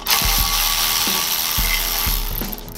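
A ratchet turning 5/8 bracket bolts on a Foxbody 8.8 differential brake assembly during a junkyard disc brake swap: several quick, loud, close clicking pawl strokes in a short burst with no talking.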